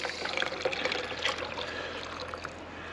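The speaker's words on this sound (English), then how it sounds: "I'm going to tip the warm water out of that" Warm water is tipped out of a survival stove pot, an uneven splashing pour with small trickles and drips, close and fairly quiet.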